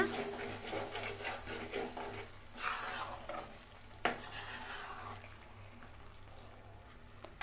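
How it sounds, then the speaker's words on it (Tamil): Chicken gravy being stirred in a pan, with soft scraping and utensil clinks over a gentle bubbling hiss, including a louder clatter near the middle and one sharp knock; faint background hum throughout, no talking. "நல்லா கிளறி விடுங்க"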